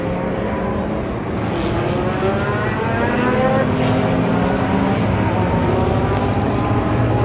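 Race cars lapping the Daytona track during an early morning practice session drone steadily with rising and falling engine tones, loud and continuous, passing from fairly close.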